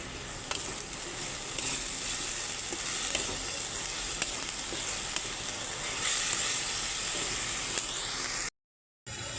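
Chopped tomato and salt sizzling in hot oil in a pan for a katla fish curry: a dense, continuous hiss with faint stirring clicks, then a brief cut to silence near the end.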